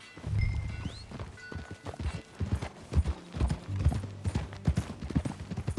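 Horse hooves clip-clopping in Red Dead Redemption 2, steady irregular hoofbeats at a walk with mechanical creaks and a few faint tonal game sounds, close and without speech.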